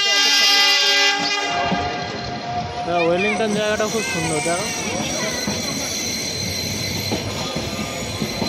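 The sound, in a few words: Nilgiri toy train running from Ooty to Coonoor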